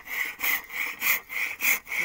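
A hand saw cuts through wood in steady back-and-forth strokes, roughly five rasping pulses in two seconds, close and fairly clear with no talking.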